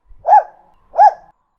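A dog barking twice, two loud, close single barks about half a second apart with silence between.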